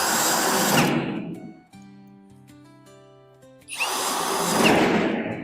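A power drill-driver runs in two loud bursts while driving screws into the back panel of a two-door wardrobe during assembly, separated by a quieter stretch of tonal music between them.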